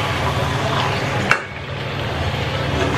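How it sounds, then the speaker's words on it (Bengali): Meat being stirred and mixed with spices in a cooking pan, a steady scraping, sizzling texture with one sharp clank of the utensil partway through, close and fairly loud. "আর এবার এই মাংসটাকে পুরো মিশিয়ে দেবো"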